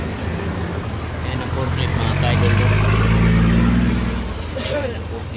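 Street traffic rumbles past at a busy fair in Davao: a heavy vehicle's engine swells and fades close by amid steady road noise, with a brief hiss near the end.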